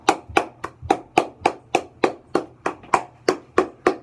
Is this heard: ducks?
no